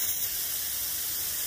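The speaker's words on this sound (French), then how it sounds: "Quand tu as terminé avec ta bombe de peinture, tu la retournes, tu y mets la tête en bas." An aerosol spray paint can held upside down blasts a continuous, loud, close hiss of propellant through the nozzle, steady and unbroken for the whole moment with no voices.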